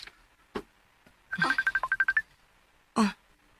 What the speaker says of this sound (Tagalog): May bagting lagi na yung cellphone.